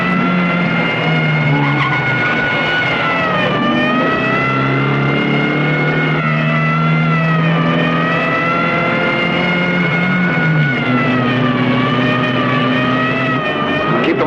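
Heavy city traffic: a loud, steady roar of car engines with rising and falling revs and tyre squeals throughout, close and continuous, and no voices.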